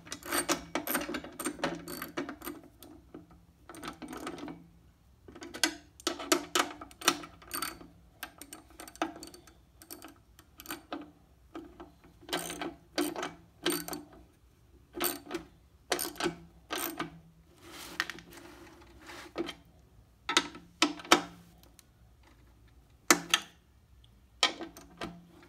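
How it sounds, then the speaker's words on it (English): Screws threaded by hand into the sheet metal frame of a garage door opener, heard as close bursts of quick ratcheting clicks repeated in an irregular rhythm, with no talking. "So you line up the holes and thread the screws in."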